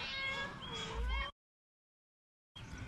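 A cat meows in a few drawn-out, wavering calls, close and fairly clear, before a sudden break into silence and a brief return of sound.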